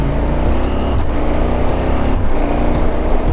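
A KTM 1290 Super Adventure motorcycle on the road, its engine a steady loud drone blended with rushing wind, continuous and close throughout without talk.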